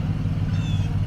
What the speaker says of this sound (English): I think they're out here mowing or treating the lawns